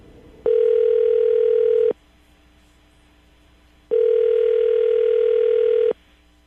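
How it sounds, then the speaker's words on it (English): Two long telephone ring tones, each about a second and a half, are heard through the handset line, separated by a quiet gap of roughly two seconds, clean and steady with faint background hiss. "I'm going to dial the phone over right now, get him on the phone"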